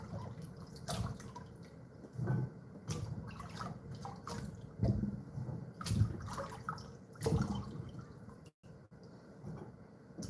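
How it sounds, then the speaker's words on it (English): Water rinsing starch from tapioca in a kitchen, with irregular splashing and dripping sloshes at close range, moderately quiet and broken by brief pauses. "Let's rinse out a little starch."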